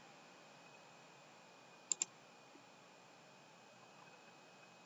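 Two quick, crisp computer mouse clicks in close succession stand out against a faint, steady hiss, with a few softer ticks afterward.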